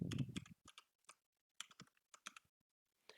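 Quiet, close computer keyboard typing comes in irregular bursts of crisp key clicks with short gaps between them, alone without voices.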